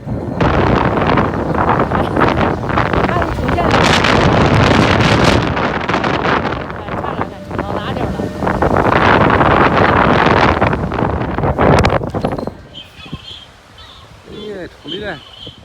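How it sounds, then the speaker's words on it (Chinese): Strong, sudden cold wind in a rural hometown roars and buffets the microphone in loud, gusting waves for about twelve seconds, then drops away as a voice is heard faintly. "经常刮这种大风，而且一刮风的话会漫天飞沙，没有一点好办法"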